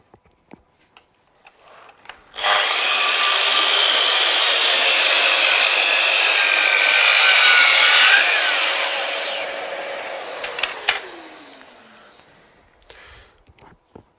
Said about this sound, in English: so now in this position we're ready to make the cut.